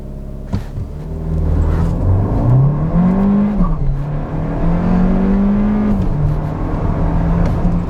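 A 2021 Hyundai Kona 1.6 turbo petrol engine revs and accelerates steadily, its rising hum holding loud and close for several seconds with a low rumble underneath.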